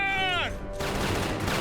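Burst of gunfire in an Ultraman Zero TV episode: a rising synthetic whine drops away, then a dense, sustained crackling fusillade fills the rest, loud and close.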